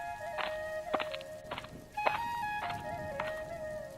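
Stylized cartoon footsteps walk outside on a rainy day: six evenly spaced, tonal, springy steps about half a second apart, fairly close over a low hiss, with no talk.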